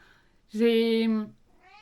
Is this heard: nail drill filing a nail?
no